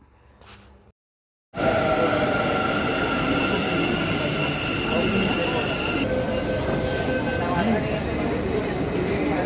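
A Bengaluru Green Line underground metro train rumbles loudly at close range, with a sustained roar and high metallic wheel squeal that runs steadily after a brief quiet start.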